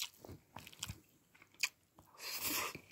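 Crispy fried food being bitten and chewed close up, several crunchy bites in irregular rhythm with brief pauses, then a louder rustling crunch near the end, no talk.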